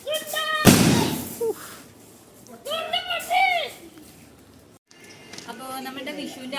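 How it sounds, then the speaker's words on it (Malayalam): One sudden, loud firecracker bang near the start of a Vishu festival celebration in Kerala, followed by people talking and calling out. "ഒരു ഗുണ്ട് പൊട്ടാൻ പോണേണേ"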